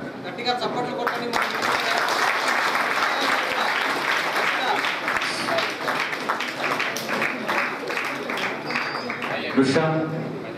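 A crowd at a school branch event in Raptadu claps loudly and continuously for about ten seconds, dense and close, with voices talking over the applause.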